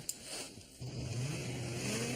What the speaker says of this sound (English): You keep revving the engine like that, you're gonna ruin it.